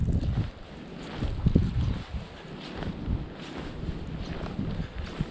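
Strong wind during a blizzard roars and buffets the microphone in uneven gusts, steady and close throughout with no voices.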